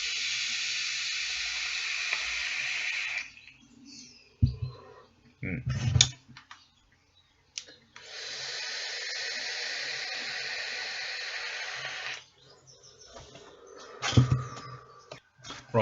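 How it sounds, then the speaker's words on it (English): Vaping on Limitless RDTA and Theorem drip tank atomizers: two long, loud airy hissing inhales of several seconds each, separated by quiet gaps with handling clicks and taps. "So let's just vape them quickly"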